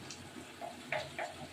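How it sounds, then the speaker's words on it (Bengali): A small splash of water goes into a pan of butter chicken in a home kitchen. It makes a few short, soft gurgling spurts against quiet background hiss. "এবার এটা জল দিয়ে, সামান্য একটু জল দিয়ে এটা ঢাকিয়ে দেবো।"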